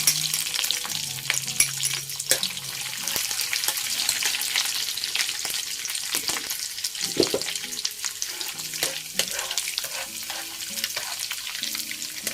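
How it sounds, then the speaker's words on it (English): Dried shrimps fry and crackle steadily in a hot pan for the whole stretch, with occasional stirring scrapes and clinks and no talking. "Next, I'm frying the dried shrimps."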